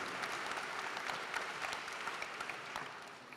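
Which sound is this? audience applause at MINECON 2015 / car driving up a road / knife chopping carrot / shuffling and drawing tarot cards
audience applause at MINECON 2015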